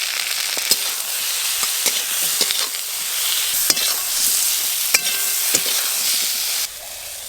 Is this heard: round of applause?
no